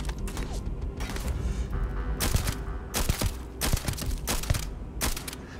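Shotgun fire in the video game Starfield: a rapid series of loud, sharp blasts mixed with mechanical clatter and game effects, densely packed over a few seconds.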